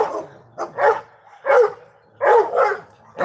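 Dogs barking while chasing a squirrel outdoors, four or five loud, close barks and yips in quick bursts separated by brief pauses.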